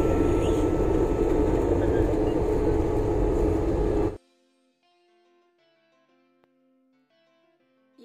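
Passenger plane landing at Hyderabad airport, heard from inside the cabin as a loud, steady engine and air roar for about four seconds before it cuts abruptly to near silence with faint tones.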